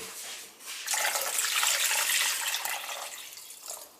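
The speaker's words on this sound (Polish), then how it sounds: "Wlewam wody tak, żeby warzywa się przykryły i liczę, że to będą 2 litry." Water poured from a tap or jug into a pot of vegetables for borscht, about two litres: a steady, bright splashing rush that swells and holds for a few seconds, close, with no talk.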